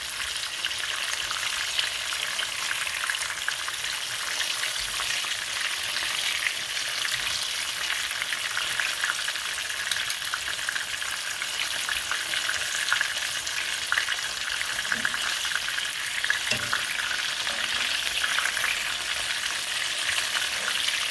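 Chicken frying in burning hot oil for a homemade chicken sandwich, a steady, close, dense sizzle and crackle that holds at an even level throughout with no talking.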